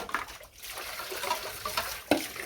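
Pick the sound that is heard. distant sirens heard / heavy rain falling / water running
water running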